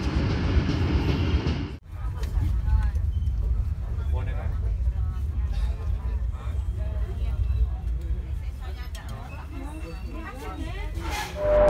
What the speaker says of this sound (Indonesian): kereta Sri Tanjung meninggalkan stasiun Wonokromo